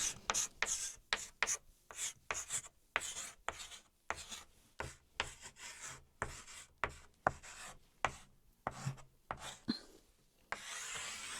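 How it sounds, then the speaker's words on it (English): Notes are written by hand in a quick series of rubbing, scratching pen strokes. The rhythmic bursts are separated by short pauses and sound close and quiet, with no talk. "let's write it down"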